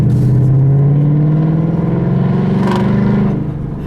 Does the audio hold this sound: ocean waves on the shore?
no